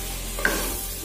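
A spoon stirs chili powder into sambar masala with chopped vegetables in a pan, one short scrape over a soft steady sizzle, close and brief.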